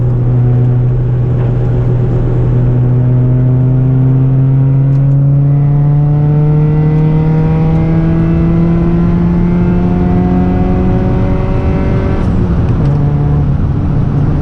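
A Honda CRX engine revs loudly and continuously as the car accelerates hard, its drone climbing steadily in pitch over several seconds before a brief shift, with road and wind noise underneath.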